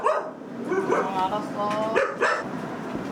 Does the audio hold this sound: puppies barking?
yes